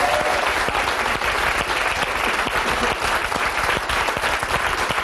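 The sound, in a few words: audience applause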